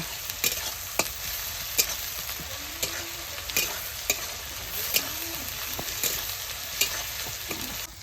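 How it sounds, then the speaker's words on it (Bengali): Onion, chilli and garlic fry in a home kitchen pan with a steady close sizzle, punctuated by regular scraping taps as the spatula stirs. "পেঁয়াজ লঙ্কা রসুন দিয়ে ভাজাভাজি চলছে"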